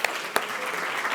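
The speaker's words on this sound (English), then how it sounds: "please, a round of applause for her because she is amazing" Applause from an audience at an autism early-identification panel greets a woman praised as a leader in the field, a short steady burst of clapping with a couple of sharper claps at the start.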